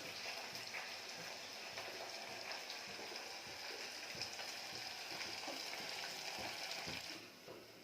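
Sliced onions and green chilies frying in hot oil for a mutton curry, a steady soft sizzle and crackle close by with faint stirring and clinking, easing off near the end.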